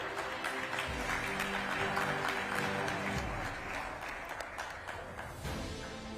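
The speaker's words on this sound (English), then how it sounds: "A huge round of applause, ladies and gentlemen." An audience at an awards ceremony claps in a sustained, dense round of applause that holds steady throughout, a little distant in the hall.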